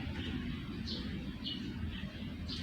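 A male canary kept alone in its own cage gives short, bright chirps a few times over steady low background noise, fairly quiet and close.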